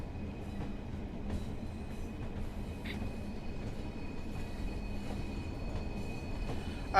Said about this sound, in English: A lot of flange squeal.